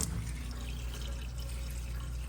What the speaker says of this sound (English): So if you want to flush it, you just turn on the sink.